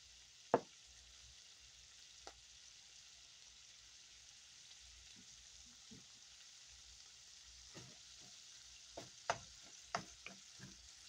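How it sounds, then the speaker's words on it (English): Hamburger meat fries in a pan with a soft, faint sizzle, broken by a few scattered knocks and stirring clatters, mostly toward the end. "This ain't gonna be your normal way of frying your hamburger"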